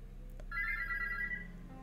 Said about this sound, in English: The morning alarm almost gives you a heart attack.